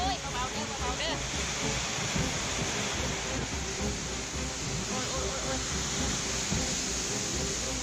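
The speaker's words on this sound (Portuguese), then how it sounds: "Nesta cena, vemos que o vento está forte, causando tumultos e pânico." Strong wind during a natural disaster roars steadily and loudly throughout, a dense rushing noise with constant gusting texture and no clear breaks.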